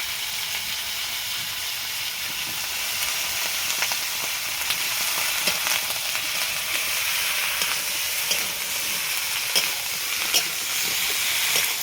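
Banana and potato fry in a pan with a paste of ginger, garlic, cumin and coriander, plus five-spice seeds and green chili, in a Bengali village kitchen. A loud, steady sizzle hisses throughout, with faint stirring clicks and no speech.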